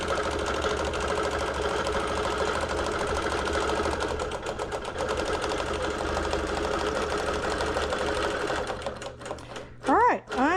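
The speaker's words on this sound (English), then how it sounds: "the green check will start the machine, and it will start quilting" Computerized quilting machine stitching a quilt, a steady close mechanical whir with a fast rhythmic stitching chatter running throughout, then a few brief whirring sweeps near the end.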